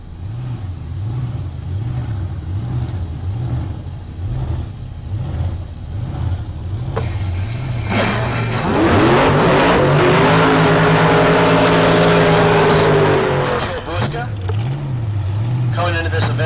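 The Nightmare Mustang drag race car screams down the strip at Heartland Park Topeka. The roar builds and rises in pitch over several seconds and then fades, while an idling engine throbs in the background and an announcer talks throughout.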